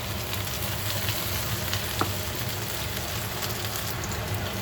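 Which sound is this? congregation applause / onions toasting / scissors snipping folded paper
onions toasting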